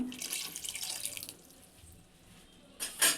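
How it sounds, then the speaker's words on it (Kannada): Water splashes and trickles into a pan of brinjal curry, a soft continuous pour that fades, then a brief louder splash at the end. "ಇವಾಗ ಇನ್ನೊಂದು ಸ್ವಲ್ಪ ನೀರು ಹಾಕ್ತಾ ಇದ್ದೀನಿ"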